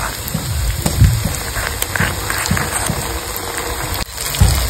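Cumin and dried chilli paste hit hot fried onions in a pan, giving a steady loud crackling sizzle with popping spatters, close up throughout.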